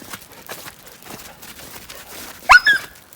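A dog outdoors at an Alaska salmon hatchery lets out a brief high whine with a short follow-up near the end, after a stretch of quiet background movement.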